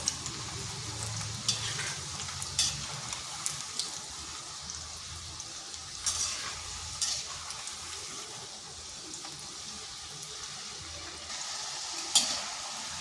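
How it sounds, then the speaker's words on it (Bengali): Palm-fruit talmohon sweets fry in oil while being turned and stirred, giving a quiet, steady bubbling sizzle broken by occasional scraping and clinking of a utensil. "এইভাবে নেড়ে চেড়ে লাল লাল করে কিন্তু ভেজে নিতে হবে।"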